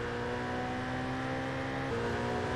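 A Nissan S15 engine revs high in GTA San Andreas, a steady loud droning whine with a slight pitch shift near the end, continuous and alone.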